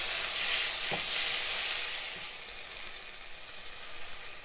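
Tomatoes, coriander leaves, yogurt and spices sizzle in a pan for egg biryani, a loud steady hissing fry that eases slightly after a couple of seconds, with a single soft stir early on.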